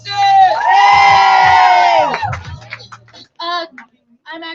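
At an open mic night, a crowd cheers loudly for a performer named Alexis: sustained excited whoops and shouts over amplified speech, fading into scattered calls and voices.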